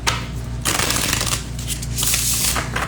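Tarot cards shuffled close up in quick riffling bursts with brief pauses between them, a soft hum running underneath.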